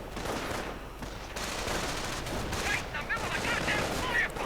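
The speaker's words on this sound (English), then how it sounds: "Volksgrenadiers getting suppressed by the 50 caliber." Rapid bursts of .50 caliber machine-gun fire in a World War II real-time strategy battle crackle through dense, steady battlefield noise, mixed with distant explosions and a voice talking over it.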